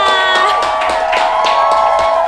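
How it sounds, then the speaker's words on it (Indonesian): A crowd cheers, whoops and claps for people from East Bandung, a dense and loud burst of voices and scattered clapping over a sustained tonal background with sharp individual shouts. "Pokoknya kita beri tepuk tangan untuk orang Bandung Timur ya."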